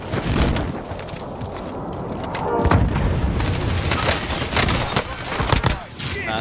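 Airstrike explosions in Call of Duty Warzone, a cluster of booming, crackling blasts rolling over one another, heard under players talking over voice chat.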